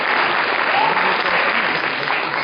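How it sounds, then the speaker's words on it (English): Audience applause for a dancer at a Kuchipudi dance recital, a loud, dense round of clapping from a full hall that stays steady throughout. "Big round of applause for Harika."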